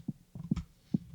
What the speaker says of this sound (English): I have these low-pass drums here,